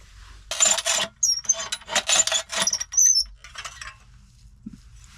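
A panel for a campervan kitchen in a Transit van build is sawn through in several quick rasping bursts, close and fairly loud, with short pauses between strokes and a faint clink near the end.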